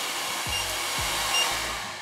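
A Repronizer 7D Plus hair dryer blowing air in a steady, loud broadband rush, with a few soft low clicks as buttons are pressed and settings change.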